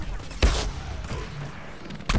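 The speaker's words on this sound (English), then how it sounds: "Missiles flying everywhere, that's for sure." Missiles and gunfire from the Plants vs. Zombies: Garden Warfare shooter game: a few loud bursts and thumps, one heavy impact near the start and another at the end, over a constant rumbling battle backdrop.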